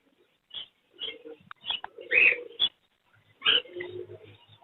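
Caged Fischer's lovebird breeder pairs at an outdoor Sunday bird market give short, sharp chirps and squeaks in scattered bursts, close by, with brief gaps of near-silence between calls.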